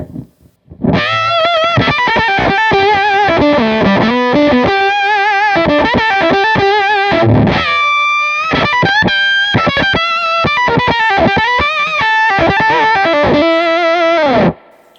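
Electric guitar run through fuzz, octave and overdrive pedals with compression, playing a loud, saturated riff of sustained distorted notes and quick runs that fills nearly the whole stretch with one brief gap near the middle.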